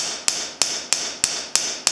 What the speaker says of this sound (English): You don't get in a hurry with the hammer. You just light tap.